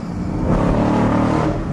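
A new Chevrolet Camaro accelerates hard as its rear slides out, the engine droning steadily and swelling slightly mid-pull, close and loud with no talking.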